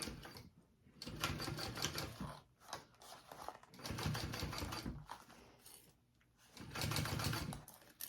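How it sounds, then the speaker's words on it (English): A domestic sewing machine runs three bursts of rapid, steady stitching along the seam allowance of a small mini backpack, stopping briefly between runs; close and fairly loud. "We're gonna sew that at our full seam allowance now."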